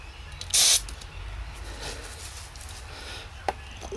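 Aerosol rust remover sprayed onto a rusty motorcycle part from a junkyard bike, one short sharp hiss up close followed by quiet clicks and handling noises.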